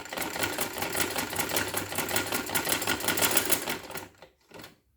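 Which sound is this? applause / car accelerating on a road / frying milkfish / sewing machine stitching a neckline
sewing machine stitching a neckline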